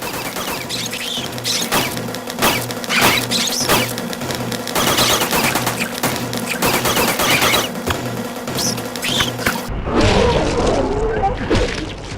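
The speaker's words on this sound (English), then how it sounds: "So that debacle took 64 bullets, 4 shotgun shells, and 3 whacks with a pipe to end." Rapid gunfire and heavy shotgun blasts in a Silent Hill 2 fight against nurse monsters, dense repeated shots over a thick music bed for about ten seconds, then an abrupt shift to a rumbling, noisier close.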